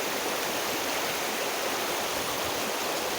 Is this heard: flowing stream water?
yes